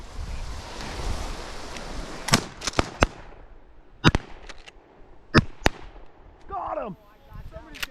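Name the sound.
shotgun shots during a duck hunt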